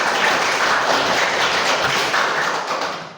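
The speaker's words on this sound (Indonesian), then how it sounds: "mari tepuk tangan semuanya" Steady applause from a group in a classroom, dense clapping filling the whole stretch without a break, then tapering slightly at the end.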